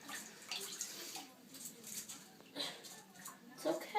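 Running water rinsing an Amazon green parrot during its first bath, a soft intermittent splashing and trickling from a tap, faint and close, with a voice speaking gently over it and small chirps.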